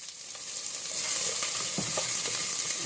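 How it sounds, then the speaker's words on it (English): A medium onion sautés in a tablespoon of canola oil, giving a constant close hiss that builds slightly in the first second, with a few soft stirring taps underneath. "I'm going to put in 1 medium onion. Go ahead and saute that."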